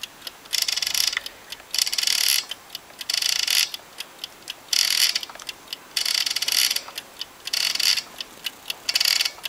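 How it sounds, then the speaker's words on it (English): A Venner timeswitch with a synchronous motor and spring-driven, all-brass clockwork is wound and set running, giving repeated bursts of bright ratcheting and whirring separated by short ticks and pauses, close and fairly clear. "I'll turn the power on and we'll set a synchro motor spring into action. Show you how this works, and I'll wind it up."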